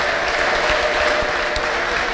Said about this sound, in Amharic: እስቲ ለጌታ ከፍ ያለ ልልታና ጭብጨባ አስጡ